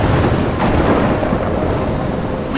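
Thunderstorm in the video game Life is Strange: a continuous, loud wash of rain and rumbling thunder fills the whole stretch, with a brighter crack near the end and no talking.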